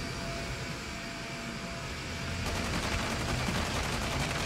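Gunfire in the Call of Duty Mobile shooter game: a burst of rapid shots begins midway, and dense loud cracks keep going over steady game ambience.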